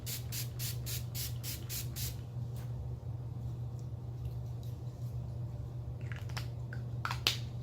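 Urban Decay All Nighter setting spray misted in a run of about seven quick, even pumps, followed by quieter handling sounds and a few more short bursts near the end, close to the microphone, no voices.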